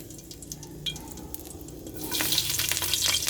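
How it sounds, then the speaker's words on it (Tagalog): Chopped garlic hits hot oil in a pan and erupts into a loud, dense sizzle that swells about two-thirds of the way through, close and continuous, with no voices. "Mahinit na siya mga idol. Ilagay na natin yung bawang natin."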